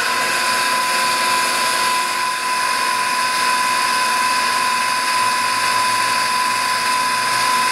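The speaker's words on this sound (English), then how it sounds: "now we're just gonna turn our mixer on and we're gonna add it in really slowly." Electric mixer whipping cream with gelatin added slowly, a loud, steady high-pitched motor whine running continuously without any talk.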